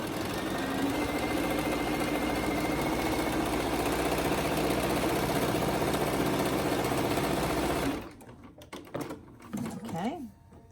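A sewing machine stitches a pleated face mask with a steady, close mechanical whir for about eight seconds, then stops, leaving faint handling noise afterward.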